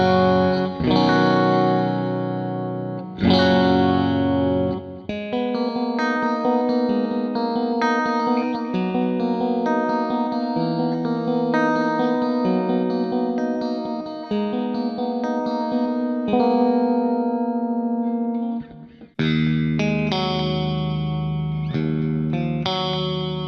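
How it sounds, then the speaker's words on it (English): Clean electric guitar played through a Mooer Black Truck multi-effects pedalboard with compression, delay and reverb into a Harley Benton 1x12 cabinet, ringing chords and arpeggiated notes with echoing tails, loud and continuous with a brief pause near the end. "my preset number 1, which is a clean channel sound, and it's made with the compression and the delay"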